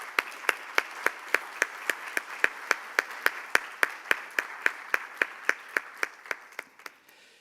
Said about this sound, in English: So a big round of applause to all the Secretariat team